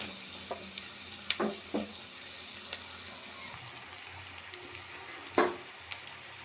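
Potato pieces fry in a pan over tempered onion and green chilli. A soft, steady sizzle runs throughout, broken by a few sharp clicks and spoon-against-pan taps.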